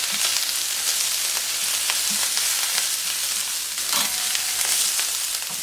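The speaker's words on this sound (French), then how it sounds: "Les aubergines grillent. Les courgettes aussi." Aubergines and courgettes grilling for a Catalan escalivada, giving a steady, dense sizzle with a few brief crackles and pops, close and continuous without any talk.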